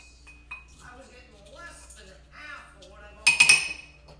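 Orange and cherry muddled in a glass for an old-fashioned cocktail, heard as a brief burst of glassy clinks and grinding knocks near the end, following a stretch of talk.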